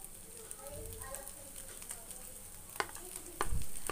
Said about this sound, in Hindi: लीजिए, आलू को हमने पैन में डाल दिया है। अब हम इसे अच्छी तरह से भून लेंगे।